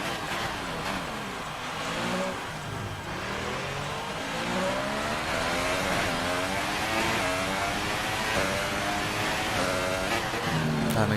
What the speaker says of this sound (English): now we've got to slam on the brakes to go down into 2nd gear